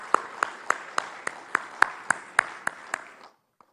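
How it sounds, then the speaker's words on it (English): Clapping at the Lanka Premier League 2024 player auction, a steady beat of about a dozen sharp, evenly spaced claps that stops abruptly and leaves near silence. "Can we also please have a loud round of applause?"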